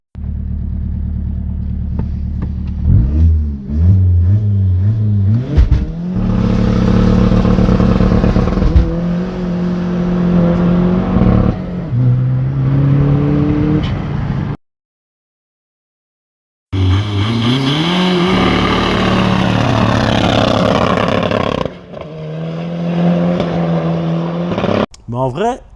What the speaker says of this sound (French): Je te mets un ou deux départs arrêtés, là, pour que tu vois ce que ça donne.